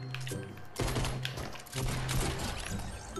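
Rapid bursts of gunfire in a Fortnite Battle Royale match, loud and close, with shots cut by brief pauses and some chatter mixed in.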